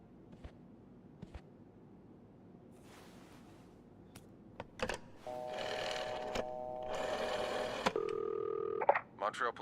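In the video game This Bed We Made, a telephone is dialed with a few short tones, then a ringback tone sounds near the end, after scattered clicks and a quiet stretch.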